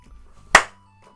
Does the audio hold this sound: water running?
no